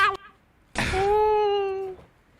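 A pet cat lets out a single drawn-out meow, close and fairly loud, lasting about a second, with a brief faint sound just before it.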